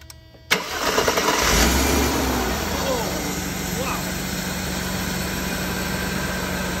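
A Mercedes engine, from a 380SL or 300E being checked for fuel injection pressure, cranks briefly and catches, then settles into a steady idle, heard close with a constant background hum throughout.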